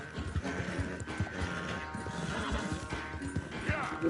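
A horse in Red Dead Redemption 2 neighs and whinnies amid clip-clopping hooves and rough scuffing noise, mid-distance and moderately loud over a short burst.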